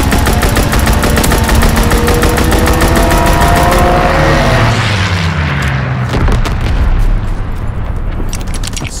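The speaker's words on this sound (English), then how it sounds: "Strafing run inbound." A strafing run in Call of Duty WW2 on the Gibraltar map tears through with loud, rapid machine-gun bursts and rumbling explosions, then fades into a low, roaring boom.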